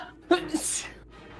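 A single short sneeze bursts out near the mic, followed by a breathy trailing exhale, amid a tabletop Dungeons and Dragons game session.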